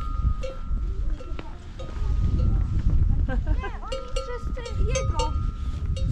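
Cattle, bulls and cows, wander along a street in Cantabria, Spain, beside a parked camper, their cowbells clanking irregularly and close amid outdoor noise, with people talking throughout.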